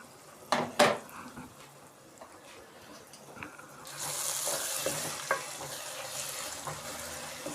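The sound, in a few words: lifting the pot lid on cooking keema with peas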